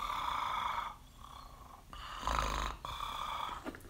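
A jaw harp played with inward breaths to mimic snoring, a buzzing drone in rhythmic rasping bursts with brief pauses between breaths, close and fairly quiet, with no speech.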